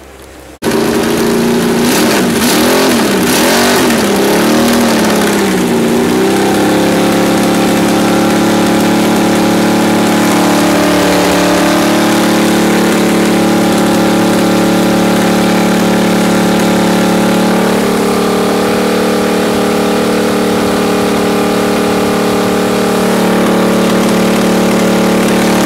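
A 350 V8 engine running on a dyno, loud and close, with a sharp start and wavering revs early on, then settling into a sustained strong roar with slight shifts in pitch throughout.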